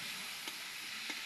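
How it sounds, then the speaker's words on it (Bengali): Fish curry ingredients fry and sizzle in a pan with cumin powder added, a steady close hiss under a couple of soft stirring scrapes, with no voices. "মোটামুটি ভাজা ভাজা হয়ে আসছে"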